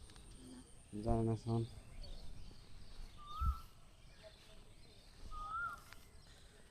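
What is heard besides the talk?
dove (ghughu) calling in village fields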